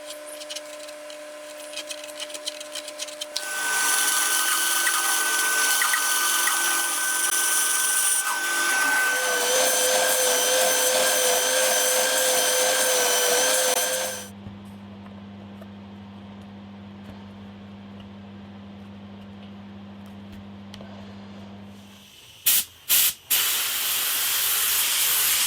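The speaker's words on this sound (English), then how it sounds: "While that's drying in the drying cupboard, which is what you can hear in the background" Drying cupboard running steadily for guitar lacquer, a broad continuous hiss and hum with a tonal whine that shifts pitch midway, then a lower steady drone before brief knocks at the end.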